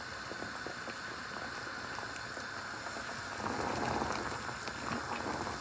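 Sugar syrup for plum murabba (aloo bukhara) simmering on a low flame, a continuous soft bubbling hiss that swells slightly toward the end.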